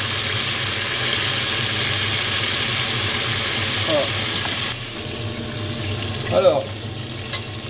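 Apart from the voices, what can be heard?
beef pieces sizzling as they brown in a pan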